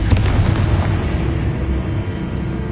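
A heavy, booming Confringo blasting-spell explosion in Hogwarts Legacy, a loud deep burst at the start that rumbles and slowly fades away.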